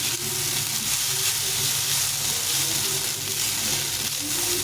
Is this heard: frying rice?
yes